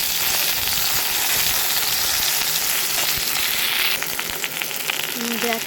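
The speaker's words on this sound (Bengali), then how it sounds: "এবার এর মধ্যে আমি একটা টমেটো দেবো" Tomato and onion frying in a pan make a loud, continuous close sizzle, with stirring scrapes and a brief voice near the end.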